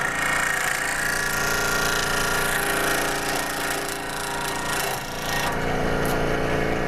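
A thin-bladed hand saw cuts wood with steady, continuous rasping strokes, close and fairly loud, running the full length without pause or voices.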